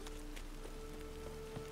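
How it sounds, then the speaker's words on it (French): Rain in The Witcher 3 falls as a steady, even hiss throughout, with a few soft drop-like ticks scattered over it and a faint tonal hum in the background. "Non, non, c'est de la pluie, là. C'est pas du vent."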